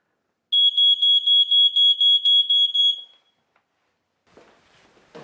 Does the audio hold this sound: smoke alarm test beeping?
yes